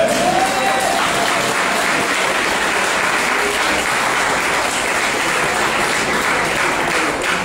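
A church congregation claps together in steady, dense applause that stays loud and even for several seconds, with no break and no voices standing out.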